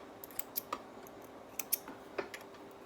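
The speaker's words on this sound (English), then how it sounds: "Cut those threads." Scissors snip sewing threads after stitching a jersey garment, a handful of small, sharp clicks and snips in quick groups, close but quiet.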